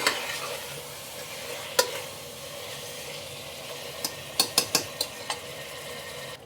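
Spices for chicken dum biryani sizzle steadily in a pan while a utensil scrapes and stirs, with a cluster of sharp metallic taps near the end.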